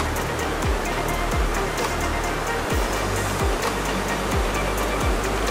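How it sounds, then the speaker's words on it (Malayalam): Steady rush of river water flowing over rocks at Aruvippuram fills the scene, close and continuous, with occasional low bumps beneath the broad wash and no voices. "വെള്ളത്തിൻ്റെ ഒരു ഒഴുക്കുണ്ടോ?"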